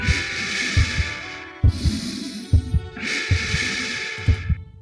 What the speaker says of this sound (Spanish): el latido crecía cada vez más fuerte, más fuerte.